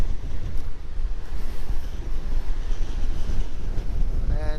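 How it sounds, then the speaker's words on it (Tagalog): Strong wind on the Ilocos coast, Philippines, roaring across the microphone with heavy low rumble, steady and loud, with faint surf underneath. "kung marinig nyo yung hangin, sobrang lakas"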